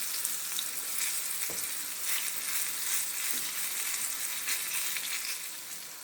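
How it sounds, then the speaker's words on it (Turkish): Eggplant coated in corn flour fries in a pan with a continuous hiss of sizzling oil and a couple of faint clinks, steady and close. "Şöyle iki tarafını da çıtır çıtır kızartıyoruz."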